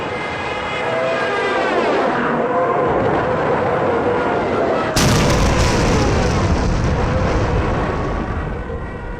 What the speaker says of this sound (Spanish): tronar de cañones y de bombas